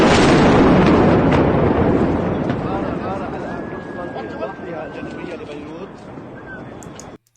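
Explosion at an ammunition depot at Beirut airport in news footage: a loud, booming blast with a long rolling roar that slowly decays, crackling secondary bursts and distant sirens or whistles, then cuts off.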